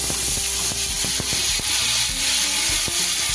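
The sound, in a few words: turmeric and spices sizzling in hot oil tempering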